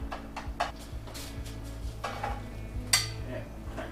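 Horsetail sautéing in chicken fat in a pan, with a soft steady sizzle punctuated by several light clinks and scrapes of stirring, close and fairly quiet.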